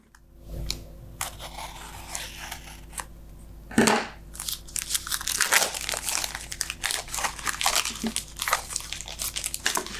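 Packaging from a card-making product is opened up close: loud crinkling and crunching of plastic and paper, with sharp tearing bursts and a steady stream of rustles, with no talking.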